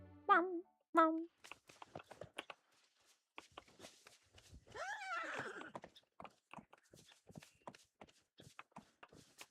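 In a farming video game, a horse neighs, hooves clip-clop in irregular steps, and a longer whinny rises midway, with short game sounds and voices scattered around them.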